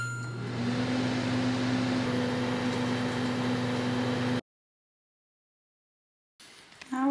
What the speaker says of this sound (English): So let's pop it in the microwave.